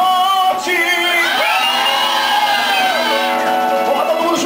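A church congregation at a lively worship service shouts and whoops loudly together, a dense crowd of voices rising and falling.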